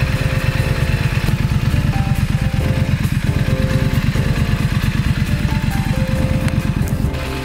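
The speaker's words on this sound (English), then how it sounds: "that is one badass sounding motorcycle." A Triumph Scrambler 900 motorcycle idles with a loud, close, steady exhaust burble, its rapid uneven pulses continuing throughout without any talking.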